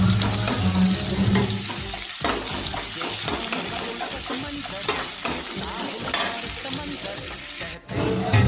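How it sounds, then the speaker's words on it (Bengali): Chopped onions sizzle loudly in hot oil in a pan while a spatula stirs them, a steady crackling fry broken by scraping strokes and a brief dip near the end. "এই যে আমার পেঁয়াজগুলো এবার একটু ভাজা হয়ে গেছে।"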